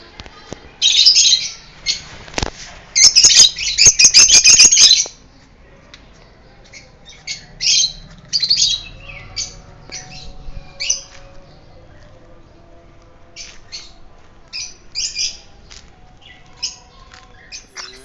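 Aviary birds squawking loudly in the sun, harsh repeated bursts clustered at the start, then scattered shorter squawks and chirps continuing at a moderate distance.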